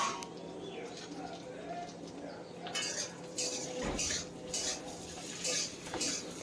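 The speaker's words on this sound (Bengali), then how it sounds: "এখন একবার খুব ভালো করে মিশিয়ে নেব" Potato pieces being stirred while frying in a pan, a metal utensil clattering and scraping against the pan in irregular bursts at close range, with faint ambient noise between strokes.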